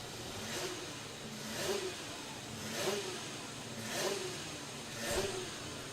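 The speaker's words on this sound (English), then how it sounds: "whoever is standing behind Ross Witherow's car while he is revving it" A racing superkart engine at Nutts Corner Kart Circuit revs in repeated surges about once a second over a steady idle, close and fairly loud, with no talking.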